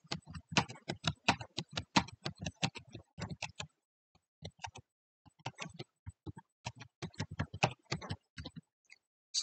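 Rapid keyboard typing in bursts of clicky keystrokes, with a short pause midway before another burst; close and fairly quiet, no voices.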